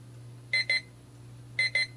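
A large Wi-Fi digital clock's timer alarm goes off twice, each time a pair of quick high electronic beeps, close and clear over a faint steady hum.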